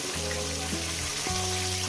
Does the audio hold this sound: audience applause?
no